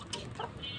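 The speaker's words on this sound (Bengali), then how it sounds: "এগুলো দেশি মুরগি" Native village chickens clucking softly, a few short bursts close by among a faint farmyard background, no talk.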